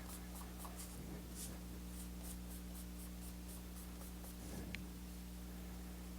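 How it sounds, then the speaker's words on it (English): Soft, faint rubbing strokes of an eraser clearing pencil guidelines from a cloud drawing, coming in short scrubbing bursts over a steady low electrical hum, with no talking. "what I'm going to do is I'm going to erase all my guidelines"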